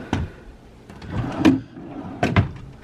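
A hotel-room nightstand drawer is opened and shut, giving three separate wooden thumps and slides at close range with no voices.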